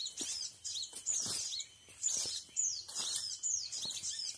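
A caught bird known locally as betis merah dadu gives short, high chirps and call bursts in an irregular series, fairly close but quiet, with light rustling in between.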